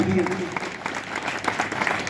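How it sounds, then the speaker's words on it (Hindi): An audience applauds to welcome Dr. Durgadatt (D.D.) Gaur at a grand civic reception in Ratangarh, a steady dense roar of hands with a voice heard over it. "ये तालियों की गड़गड़ाहट हम सब के हृदय से निकली हुई हर्ष ध्वनि है।"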